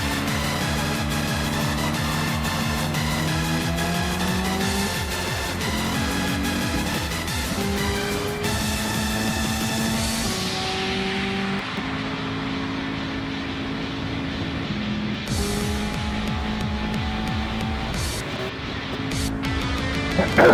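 A loud, continuous racing truck engine roar in a video game, with shifting pitch, drones steadily, dense and mechanical, under what sounds like faint commentary.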